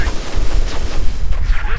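Incendiary armor-piercing rounds fire in a strategy video game battle against infantry. The gunfire is a loud, dense, continuous rattle lasting under two seconds.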